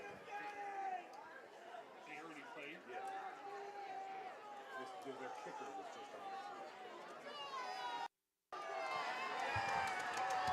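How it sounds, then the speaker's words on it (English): Home crowd in the stands cheering and chattering at a Lake Shore high school football game late in the fourth quarter, with a broad rising roar under a commentator's voice. "The Lakeshore crowd getting into it, being prompted by their offensive unit on the sidelines"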